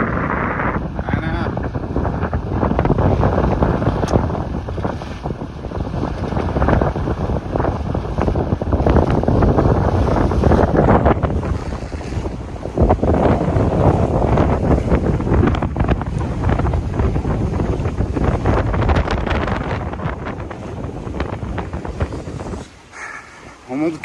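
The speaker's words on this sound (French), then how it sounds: "On monte clairement à 20 nœuds de vent" Strong wind of about 20 knots roars past a sailboat sailed single-handed with a reefed genoa, a loud, unbroken rush and buffeting that continues throughout, easing slightly near the end.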